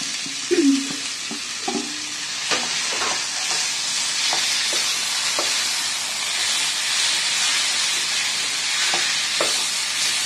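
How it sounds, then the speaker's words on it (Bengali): Fried potatoes go into a pan with a sautéed mixture for a Bengali fig (dumur) curry, giving a steady frying hiss, with a few close stirring scrapes near the start. "দিয়ে এবার খানিকক্ষণ কষবো এটা। এবারে এর মধ্যে ভেজে রাখা আলুগুলো দিয়ে দেবো।"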